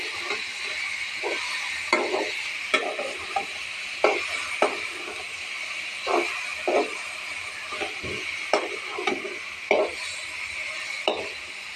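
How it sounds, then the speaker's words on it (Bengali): A spatula stirs and tosses pumpkin greens and potatoes frying in a pan, giving soft scraping strokes at irregular intervals over a constant sizzling hiss. "আবার আমি সুন্দর করে নাড়াচাড়া করে নেব।"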